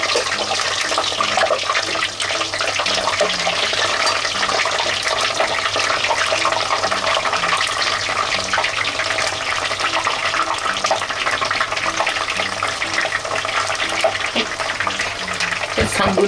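Battered broccoli deep-frying in oil heated to 180 degrees gives a loud, continuous, close-up sizzle and crackle that holds steady for about sixteen seconds.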